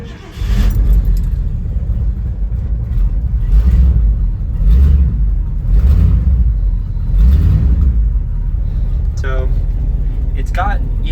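A 1970 Ford F250 farm truck's engine runs close by with a loud, steady rumble and repeated surges as the throttle is blipped, and a few light metallic clinks come near the end.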